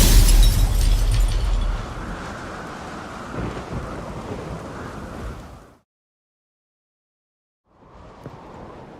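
Thunderstorm in The Witcher 3: loud rolling thunder with heavy rumble and rain for about six seconds, cutting to silence before the storm ambience returns faintly.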